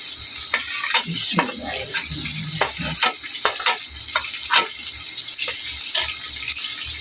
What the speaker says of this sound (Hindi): और इसमें हम हरी मिर्चें भी डाल देंगे साथ ही